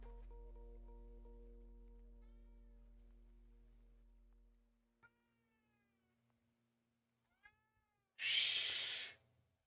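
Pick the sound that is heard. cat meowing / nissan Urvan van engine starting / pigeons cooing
cat meowing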